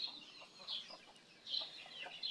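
Rhode Island Red and native backyard chickens, including a rooster, cluck and chirp in a few short, moderately close bursts outdoors, with no talking.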